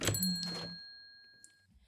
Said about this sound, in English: The bells of the general store chime as the two of you enter.